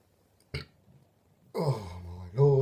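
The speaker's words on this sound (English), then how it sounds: "all I want to do is burp." A loud burp after drinking beer from a two-litre stein, a short deep belch followed by a longer, louder drawn-out one, close and alone.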